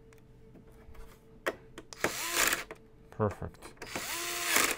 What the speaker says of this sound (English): You can continue screwing right away.